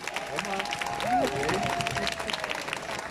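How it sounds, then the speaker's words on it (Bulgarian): Festival audience applauds female performers in a dense, steady wash of clapping that carries through, with a tonal sound gliding briefly above it and crowd murmur beneath. "Моля ви се, много силни аплодисменти за тези прекрасни дами."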